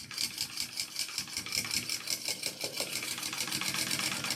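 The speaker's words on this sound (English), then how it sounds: "I'm going to go ahead and do a second row of stitches right to the right" A domestic sewing machine runs a second row of stitches along a handbag seam, giving a close, rapid, even mechanical chatter that holds its rhythm throughout.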